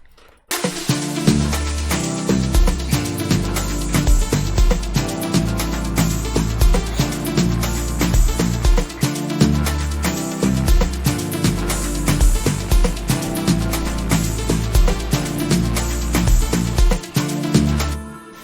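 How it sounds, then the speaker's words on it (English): Afro-house beat in which the kick plays a stop-start pattern of single and double hits over a dense, loud mix of percussion and synth layers, steady and continuous throughout. "the kick hits once and then stop, and then twice, 1 2 stop, 1 1 2 stop, that's how"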